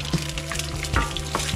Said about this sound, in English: cook the egg and sort of like almost scramble it right in the frying pan